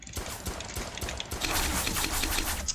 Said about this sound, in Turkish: Çok güçlü bir silah o ya. M249'du galiba.